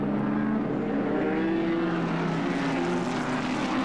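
A post-war vintage racing car at Silverstone drones past as a steady, moderately distant engine tone with a slight pitch sweep, continuous throughout with no voices.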